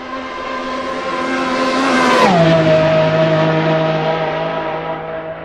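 A toy race car engine revving in a steady high buzzing whine that rises, then drops sharply in pitch and settles into a lower sustained drone, loud and close throughout.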